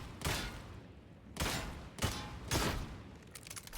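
Heavy gun blasts strike a crusher enemy in a video game, four loud booming shots spaced about a second apart, each trailing off briefly, with a faint clatter after the last.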